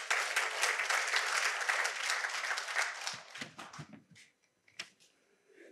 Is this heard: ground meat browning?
no